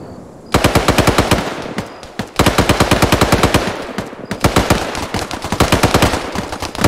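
Automatic gunfire in the military video game Arma 3 rips out in three long loud bursts, rapid evenly spaced shots with brief pauses between strings.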